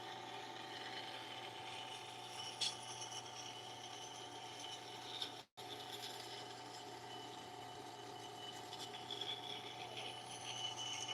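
A woodturning tool is sharpened on a sharpening system, producing a faint, steady motor hum with soft rubbing and grinding scrapes and one brief pause.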